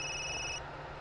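Telephone in the video game SCP: Secret Files rings with a steady electronic tone that cuts off partway, quiet and alone against a low hum.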